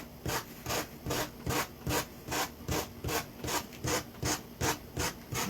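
A small sanding block rubs back and forth along the edges of a round wooden watermelon doorhanger, making about a dozen even, rhythmic rasping strokes, close and steady, with no talking.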